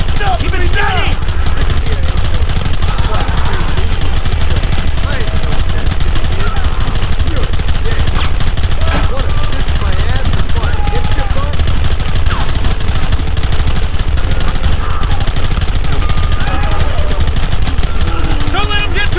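Gunfire in the Western video game Red Dead Redemption, a dense, continuous battle of rapid rifle and gun shots with rumbling noise throughout, loud and close, while game characters shout and talk over it.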